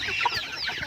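A chicken in a rural Thai village setting clucks in a short, close, lively burst of several rapid calls with no talking.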